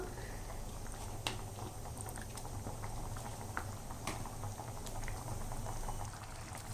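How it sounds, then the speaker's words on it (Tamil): A pot of carrot and beans kootu boiling on the stove, giving a continuous close bubbling and popping with small irregular plops and crackles over a low simmering rumble, and no voice. "இப்போ நல்லா கொதி வந்து ரெடி ஆயிடுச்சு"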